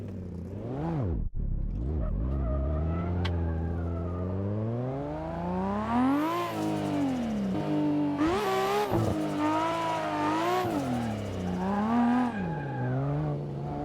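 A racing car in Assetto Corsa, driven on a wheel, revs hard in repeated surges as the clutch is kicked, its engine note climbing and dropping with bursts of tire squeal, loud and close with no talking.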